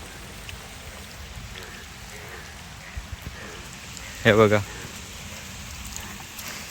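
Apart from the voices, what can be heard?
heavy monsoon rain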